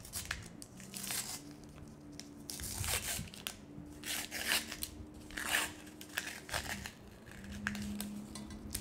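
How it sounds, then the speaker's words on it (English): A sublimated can holder being unwrapped after a Cricut mug press, with close crinkling, peeling and tearing of tape and wrap in irregular bursts, no voices. "So this is cooled down enough for us to unwrap it"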